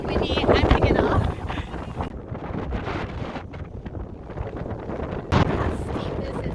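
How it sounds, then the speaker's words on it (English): Strong wind gusts roar and buffet across an exposed ledge at a gypsum mine on Cape Breton, loud at first then easing into a rougher steady rush, with a voice speaking over it. "it's so windy"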